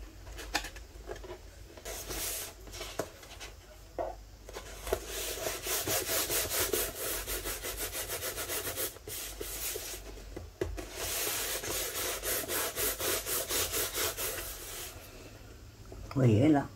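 Repeated rasping strokes of a blade cutting paper for a scrapbooking camera bellows, steady and close, with rhythmic scraping over most of the stretch and a person talking briefly around it.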